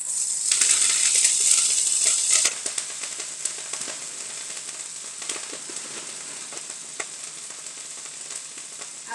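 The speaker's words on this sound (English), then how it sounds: "So let's just let the garlic sizzle for a few seconds" Garlic sizzling in a hot pan with coconut, a loud, bright frying hiss with crackles that settles into a steadier, quieter sizzle after a couple of seconds, with no talk.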